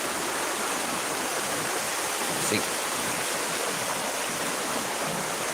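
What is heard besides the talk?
flowing water of the Belawan River near Medan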